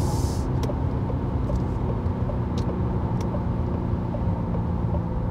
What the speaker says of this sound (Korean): 아주 짧은 구간에서 힘차게 가속을 이어가서 짧은 구간에서 시속 100km를 넘겼습니다